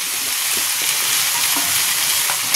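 Vegetables fry in a pan as leafy greens go in, giving a steady, loud sizzle with faint stirring scrapes throughout and no talking.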